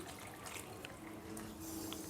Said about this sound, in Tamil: கொஞ்சம் தண்ணி ஊற்றிக்கும்